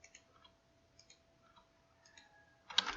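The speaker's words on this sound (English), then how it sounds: "let me just put the zeros here. I'll just type them in" Zeros are typed on a computer keyboard as a few sparse, faint key clicks in a quiet room, ending with a sharper, louder keystroke near the end.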